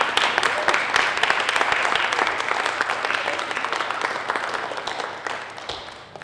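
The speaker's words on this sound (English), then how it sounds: "let's applaud the young people who didn't give up" Audience at a spring closing ceremony applauds young program participants: dense, steady clapping from many hands that fills the room for several seconds and thins slightly toward the end.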